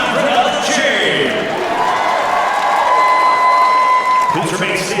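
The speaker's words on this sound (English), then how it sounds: "Say this one more time for another cheer." Stadium crowd cheering and applauding after the national anthem at a flag ceremony with a Marine Corps color guard, a loud sustained roar of clapping and whoops, with a long whistle tone rising through it.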